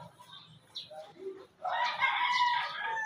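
A large rooster of about two kilos makes short, close clucks, then a louder, sustained burst of agitated squawking calls.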